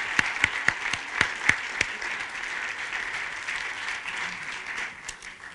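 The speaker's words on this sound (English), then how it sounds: "Please, a big applause to Silvio Giobellina" A crowd claps steadily, with a few sharp, loud individual claps standing out early, then the applause carries on as a dense, even patter.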